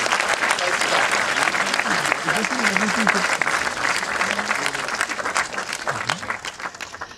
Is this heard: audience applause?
yes